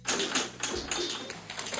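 Someone types on a vintage typewriter from a large collection, a rapid run of crisp key strikes with clacks and a bell-like ring, close and fairly loud, no talk.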